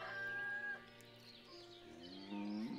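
Cattle moo in the farming video game Ostriv, with a long low lowing call near the start and another rising bellow toward the end over a quiet background.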